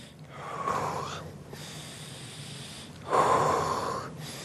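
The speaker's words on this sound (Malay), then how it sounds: "Tarik nafas guna hidung, hembus guna mulut" A person breathes in through the nose and out through the mouth, close and clear, with two long airy breath cycles separated by a pause, in a quiet room.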